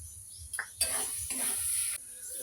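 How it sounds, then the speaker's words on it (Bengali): Sweet green pea kachori filling fries and gets stirred in a pan, with a soft, quiet sizzle broken by a few scraping strokes of the spoon against the metal. "এরকমভাবে দশ পনেরো মিনিট আমি ভেজে নেব"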